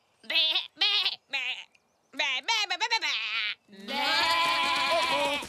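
A person mimics sheep, giving several short wavering bleats followed by one long, loud, drawn-out bleat, all close up; talk is mixed in among the calls.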